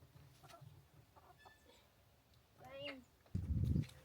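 Chickens clucking at a backyard poultry pen in a German province, soft scattered clucks and short calls, fairly faint, amid quiet talk and a brief louder thump near the end.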